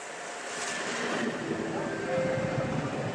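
An Intercity passenger train pulls into a Polish railway station, a rising rumble with faint wheel squeal, heard from the platform with some background noise.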